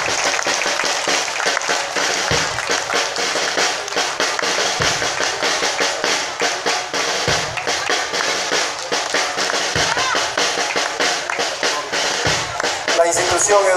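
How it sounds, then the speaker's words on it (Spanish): A crowd at a school anniversary ceremony applauds the students of the escort, general staff and flag bearers, with sustained, fairly loud clapping and scattered sharp hits running throughout. "Fuerte los aplausos para las estudiantes que integran la escolta, el Estado Mayor"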